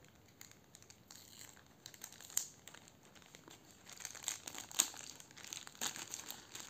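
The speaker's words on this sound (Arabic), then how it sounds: "نفتح الكيس ده" A plastic bag crinkles and rustles as it is opened while unboxing a microphone, with soft, irregular crackles that grow busier toward the end, close and fairly quiet.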